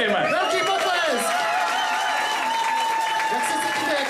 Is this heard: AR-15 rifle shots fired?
no